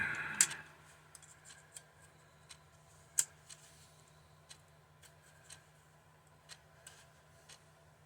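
Needle-nose pliers working an E-clip off a shaft while scrapping a Milkhouse heater, a series of small, sharp metallic clicks and ticks at irregular intervals, close and quiet, with one louder snap early on and no talking.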